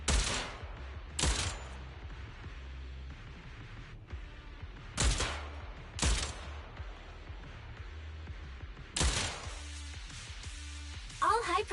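Rapid gunfire in the video game Zenless Zone Zero, heard in several separate loud bursts spread across the stretch, with quieter game sounds and talk between them.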